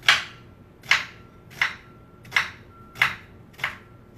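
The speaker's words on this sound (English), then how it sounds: "the more slices I'm cutting, the finer they get" A knife cuts through an onion onto a cutting board in six evenly spaced, crisp chops, each a sharp close knock with a short crunchy tail.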